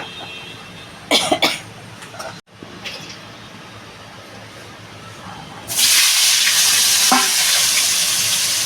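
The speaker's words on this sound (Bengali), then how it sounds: "আগে আলুটা ভালো করে ভেজে নেবো" Potatoes frying in hot oil in a pan: a sharp burst of loud hissing sizzle rises and holds steady near the end, after a quieter stretch with a cough and a few clatters.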